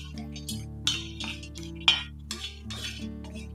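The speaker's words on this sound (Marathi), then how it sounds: "तव्यामध्ये इथं मी खोबरं घेतलेले, ते देखील भाजून घेते." Grated coconut is dry-roasted on a metal griddle and stirred with a utensil, producing a handful of sharp metallic clinks and scrapes spaced irregularly over a quiet background.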